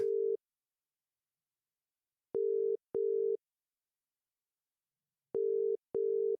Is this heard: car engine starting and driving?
no